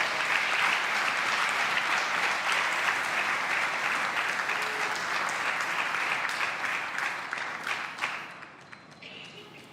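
Congregation applause filling a church during a sermon, steady dense clapping from many hands for most of the stretch, thinning out near the end.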